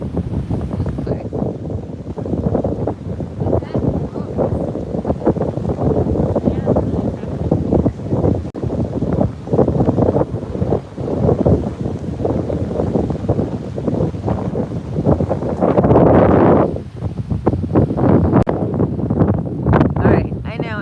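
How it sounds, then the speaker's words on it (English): Strong wind roars and buffets the microphone in loud gusts, with crashing surf underneath and a person talking through the noise. "It's very windy. We're getting out of the wind."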